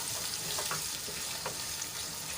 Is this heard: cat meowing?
no